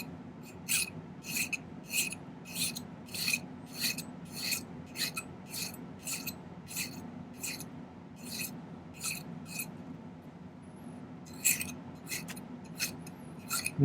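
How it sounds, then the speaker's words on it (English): Cleanup filing on a silver prong setting holding a blue topaz, a steady run of about twenty short rasping strokes, close and distinct, with a brief pause before the final few. "I'm going to just do a little cleanup filing on this"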